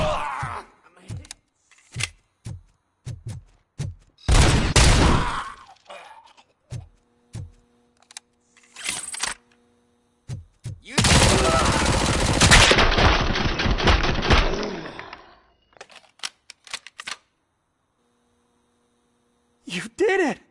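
Bursts of gunfire in RoboCop Rogue City, short sharp shots then a sustained loud volley lasting a few seconds, with hum and scattered impacts around it.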